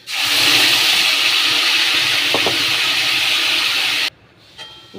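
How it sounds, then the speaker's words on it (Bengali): Masala spices dropped into hot oil in a large kadai while cooking mutton curry, a loud steady hissing sizzle that holds for about four seconds then cuts off abruptly, leaving quiet kitchen sounds. "তেলটা গরম, এবার এই মশলাটা দিয়ে দেবো।"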